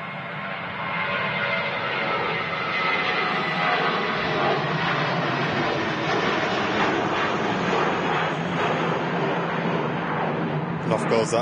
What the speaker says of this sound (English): it's not very often we see an A321 with Finnair